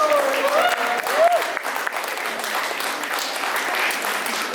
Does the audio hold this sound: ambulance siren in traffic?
no